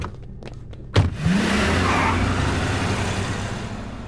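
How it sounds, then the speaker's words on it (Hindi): A car in a comedy film scene starts with a sharp thump, then its engine revs into a loud, close, steady roar as it pulls away. "गाड़ी निकालो।"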